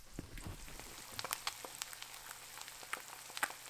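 Steady crackling sizzle of eggs frying in a pan, with sharp irregular pops and spits scattered throughout.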